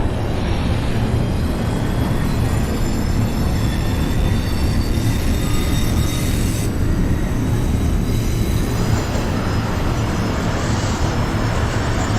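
An NYC Subway R142 train in the OpenBVE simulator rumbles and roars continuously, loud and close, with wheels screeching faintly along the rails throughout.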